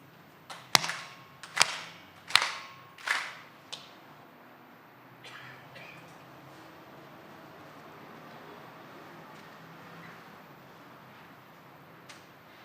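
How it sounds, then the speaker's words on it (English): Four sharp claps sound in unison at an even, deliberate pace closing a station dedication ceremony, followed by a long stretch of quiet room ambience. "4 solemn claps together to close the service."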